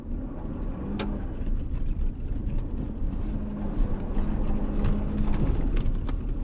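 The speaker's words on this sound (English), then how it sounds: "we're making some donuts" A 2025 Toyota Tundra TRD Rally pickup spins donuts on dirt in two-wheel drive with traction control off, its engine droning steadily as tyres churn loose ground, close and continuous with no talk.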